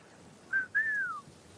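A person whistles a two-part signal: a short steady note, a brief gap, then a longer note that rises slightly and glides down, clear and alone against faint background hum.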